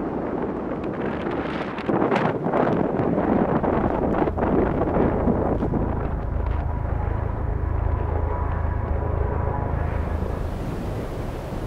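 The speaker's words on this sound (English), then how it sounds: "The strong wind tearing at my jacket." Strong wind roars across open mountain terrain in the Cairngorms near the Lairig Ghru pass, buffeting the microphone with loud, continuous gusting rumble and rushing noise that shifts in intensity throughout.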